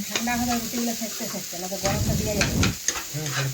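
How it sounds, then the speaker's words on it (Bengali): A spoon stirs a sizzling filling of potato, carrot, green beans and egg in a hot pan, with quick scraping strokes over a steady frying hiss, close and fairly loud. "এখন আমি এই চামচটা দিয়ে নাড়তে নাড়তে দেখুন একটু কুচি কুচি করে নিচ্ছি"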